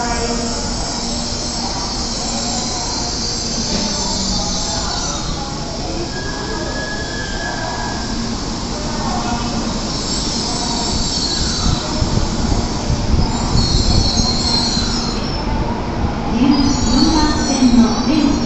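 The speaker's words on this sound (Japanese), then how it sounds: "こちらがこだま715号 N700系で運転される13番線発新大阪行きです" A 16-car N700 series Shinkansen, the Kodama 715 bound for Shin-Osaka, pulls into platform 13 at Kyoto station with loud, sustained wheel squeal and a steady rolling rumble. Faint station voices sit underneath, and the squeal sharpens toward the end.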